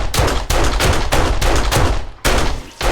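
Pistol shots ring out in 7 Days to Die while fighting zombies, five or six loud close reports spaced roughly half a second apart, each leaving a dense ringing tail that fills the gaps.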